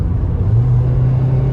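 Toyota Yaris city car engine buzzing under throttle, a loud, close, steady droning hum with a slight rise in pitch, no voices.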